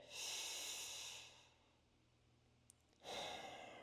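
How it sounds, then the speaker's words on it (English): Slow, deep breaths drawn in and let out through the nose, soft and close, with a long inhale, a quiet pause and then another breath, no talking. "When you're breathing like this, you should be breathing through the nose, taking deep breaths."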